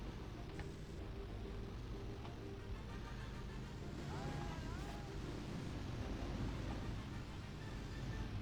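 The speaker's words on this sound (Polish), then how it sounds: "kolejni motocykliści są za nami, słyszę ich" Pursuing motorcycle engines in the retro video game The Great Escape drone steadily as a low, continuous rumble throughout, with a voice talking over them.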